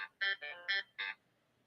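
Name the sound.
phone ringtone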